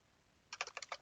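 Quick bursts of computer keyboard keystrokes, a handful of close, crisp clicks in an uneven rhythm starting about halfway through, with a quiet room before them and no talking.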